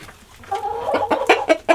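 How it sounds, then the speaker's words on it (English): Chickens cluck close by in a snowy farmyard, a run of loud rhythmic clucks and squawks building after a quiet start. "Leave the chickens alone, sweetheart."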